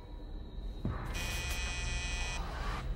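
A front door buzzer kicks in after a faint background hum, sounding as a loud, steady electric drone that holds for about a second and a half before a softer buzzing tail fades out.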